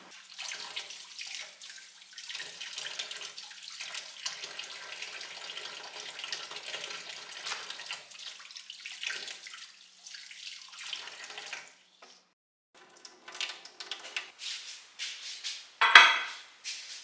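Tap water runs steadily into a sink in a home kitchen while fresh coriander is rinsed, a soft continuous hiss and splash that pauses briefly, then resumes with a few louder splashes near the end.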